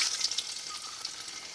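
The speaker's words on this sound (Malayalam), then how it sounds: "ഇപ്പം നമ്മുടെ എണ്ണ ചൂടായിട്ടുണ്ട്. നമുക്ക് ഇറച്ചി ഓരോരോ കഷ്ണമായിട്ട് വെച്ച് കൊടുക്കാം." Chicken pieces for Kerala-style chicken chammanthi frying in hot oil, a steady close crackling sizzle that holds through the short stretch with no talk.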